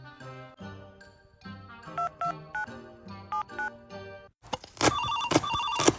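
Phone call being placed, a ringtone-like melodic tone playing in repeated bursts followed by a louder, denser electronic ringing tone, close and clear with no talking.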